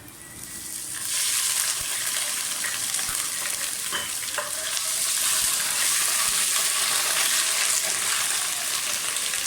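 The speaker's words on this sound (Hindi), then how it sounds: "प्याज फ्राई हो गया, लहसुन अदरक का पेस्ट डाल दें।" Garlic ginger paste hits hot oil with fried onions, setting off a loud, steady sizzle that jumps in after a brief quieter start and keeps up with stirring scrapes throughout.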